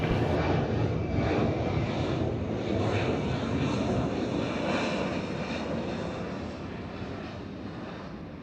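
A fixed-wing airliner lands at Atlanta airport, its engine roar sustained and broad, heard from a distance across the field and slowly fading.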